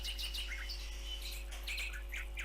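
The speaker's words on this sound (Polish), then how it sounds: "Nagle zjawia się pan Słowik. Poświstuje, skacze." A nightingale whistles and chirps in short, bright bursts of song, repeated quickly with brief gaps over a faint steady background hum.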